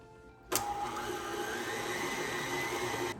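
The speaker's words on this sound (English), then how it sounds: "I'm going to add my whisk so that I can get it really creamy" Electric mixer with a whisk attachment beating cream cheese for a lemon dessert, a steady loud whirring drone that starts abruptly and runs continuously, with no talking.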